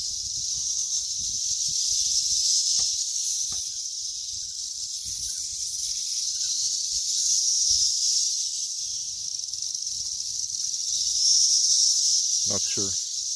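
Male cicadas in a June garden give off a steady, high, shimmering buzz that hangs over everything without a break, swelling slightly at times, with faint rustles and a few soft knocks close by.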